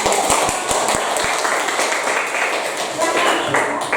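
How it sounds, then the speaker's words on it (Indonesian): Students in a geography classroom give a short round of applause, scattered claps at first merging into a dense, close clatter with voices mixed in. "Oke, beri aplaus."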